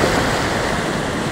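Strong wind by the sea during a storm roars steadily as broadband rushing noise, blending with crashing surf, loud and close to the microphone.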